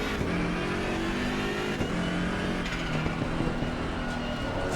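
A BMW M6 GT3 race car in the racing game Assetto Corsa Competizione revs and accelerates through gear changes, a loud continuous engine roar with rising pitch sweeps close up and no voices.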